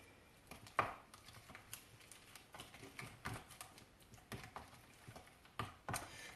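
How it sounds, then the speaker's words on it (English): Keto pancake batter being mixed in a bowl, a quiet run of irregular soft taps and scrapes from the utensil, with a few sharper knocks, close and alone with no talking. "So I'm just going to mix this up"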